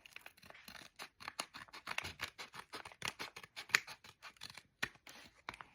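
Scissors snip rapidly through the plastic of a blind bag package, a quick rhythmic series of close, crisp cuts with a few brief pauses.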